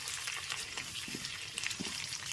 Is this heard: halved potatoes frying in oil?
yes